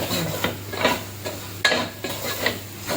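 A spoon stirs chilli powder in a hot pan for chickpea curry, giving a series of rhythmic scraping strokes, about six of them, over a soft continuous sizzle close by.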